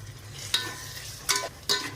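Turmeric being stirred into biryani masala in a pan, a soft sizzle with three distinct scraping stirs, close and moderately loud.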